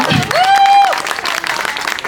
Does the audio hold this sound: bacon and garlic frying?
no